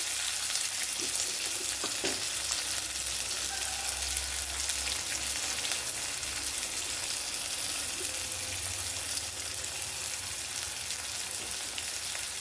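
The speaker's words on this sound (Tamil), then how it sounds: "வெங்காயம் கொஞ்சம் வதங்கட்டும்" Chopped onions with curry leaves and salt sauté in oil for an okra masala, giving a steady, close broadband sizzle with a few scraping stirs and no talking.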